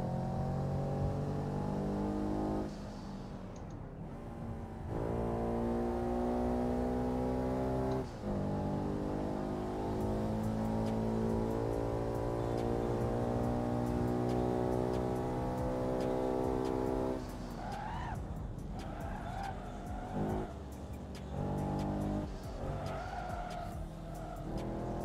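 An Audi races past very close with a loud engine roar and a brief tire squeal, rising then fading as it passes; no one speaks.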